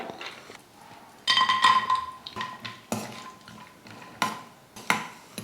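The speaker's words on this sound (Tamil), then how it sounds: "இப்போ முந்திரி போட்டு வறுத்துக்கலாம்" Cashews sizzle in hot ghee in a pan for a Tamil kesari dish, with a soft frying hiss under repeated clinks and scrapes of a metal spoon against the vessel.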